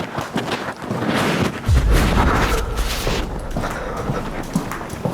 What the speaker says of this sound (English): Well, I guess this is a firework.